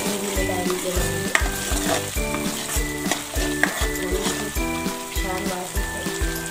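Homemade masala sizzles steadily in a hot pan for egg curry while a spoon stirs and scrapes through it in repeated close strokes.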